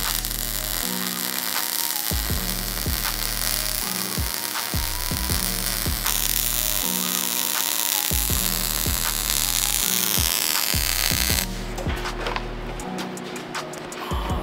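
Wire welder joining two metal pieces in a shop, a buzzing electrical crackle with a steady hum, broken into short stitch-like bursts with brief pauses between them, close and fairly loud.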